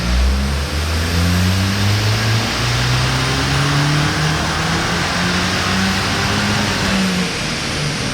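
A 2013 Volkswagen Mk6 GTI with a manual gearbox and a Stage 1 tune revs hard on a dyno, its loud close engine note climbing steadily through the gears in a continuous roar, with no voices.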